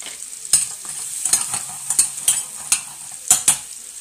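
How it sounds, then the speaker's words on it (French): Chicken suprême simmering in a pan, a steady bubbling sizzle broken by repeated sharp scrapes and clinks of a utensil against the pan, close and loud with no talking. "Ça commence à mijoter"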